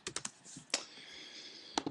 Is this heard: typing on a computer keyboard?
yes